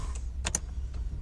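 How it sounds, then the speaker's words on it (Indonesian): A Mercedes-Benz S350 L (W221) starts at the push of its start button: two short, close whirring bursts over a steady low rumble, with no voices. "Maka mobil akan segera menyala."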